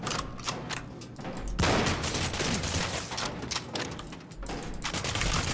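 Rapid gunfire in the first-person video game Cryostasis rattles in a dense, continuous burst of close, loud shots with heavy thumps, running for several seconds with hardly any gap.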